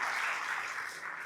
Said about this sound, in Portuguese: Vamos dar uma salva de palmas pela vida do lindo casal.